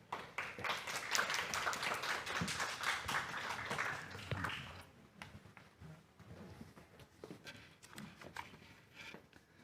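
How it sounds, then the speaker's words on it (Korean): Applause for the first presenter at a senior citizens' assembly at Chuncheon Northern Senior Welfare Center, a burst of clapping that is fairly loud for about five seconds, then thins to scattered claps. "큰 박수 부탁드립니다"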